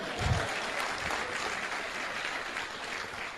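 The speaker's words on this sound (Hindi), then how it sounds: "बजाओ ताली भाई।" An audience applauds at a motivational seminar, a steady wash of clapping from a crowd throughout, loud and continuous with no speech over it.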